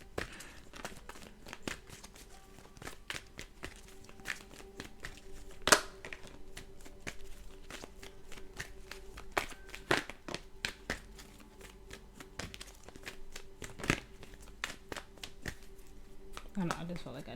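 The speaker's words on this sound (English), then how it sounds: "I just felt like I needed to keep shuffling." Tarot cards shuffled by hand in a quiet room, a steady run of soft papery riffles and crinkles with occasional sharper snaps, close and fairly faint, with brief talk in places.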